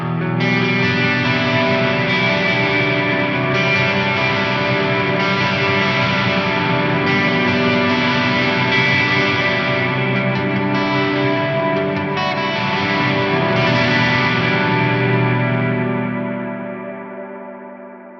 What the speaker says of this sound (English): the Plex Delay, which I'm using for just a really big ambient reverb